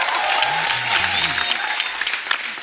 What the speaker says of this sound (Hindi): शुभ मंगल ज्यादा सावधान के लिए एक बार जोरदार ताली हो जाए